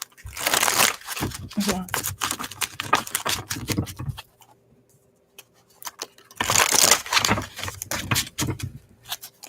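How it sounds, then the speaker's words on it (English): Tarot cards are shuffled by hand in two crisp, rapid bursts of riffling and patter, close to the mic, separated by a quiet pause, with a voice speaking briefly. "Let me just shuffle this one out"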